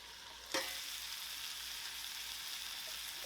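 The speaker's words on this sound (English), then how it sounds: "I'm going to cover this on a medium-high heat just for a few minutes before I flip my fish" Striped bass fillets frying in a pan over medium-high heat, a steady bright hiss of sizzling oil that jumps louder after a brief clatter early on, then holds constant.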